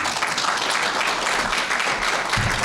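Audience applause at a ghazal and geet concert, a steady dense wash of many hands clapping throughout, fairly loud and close, with no voices over it.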